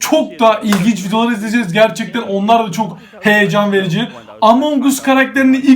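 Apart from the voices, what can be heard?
No everyday noises stand out.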